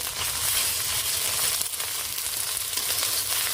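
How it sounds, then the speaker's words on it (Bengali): Ginger and garlic paste frying in a pan for a village-style Bengali fish dish gives a loud, steady, close sizzle that crackles without a break from start to finish. "এই দিচ্ছি আদা বাটা দিয়ে একটু ভেজে নেব"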